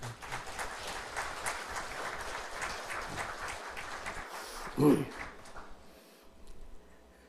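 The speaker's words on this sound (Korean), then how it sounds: "박수 한번 해 줘요." A church congregation claps together in a moderate, fairly quiet burst of applause lasting several seconds. It ends with a short thump and then near silence.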